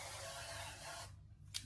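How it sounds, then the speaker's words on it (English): Olive oil sprays from a pump bottle onto seasoned food in a kitchen, a soft steady hiss lasting about a second, then a quieter short puff. "I'm gonna spray some olive oil"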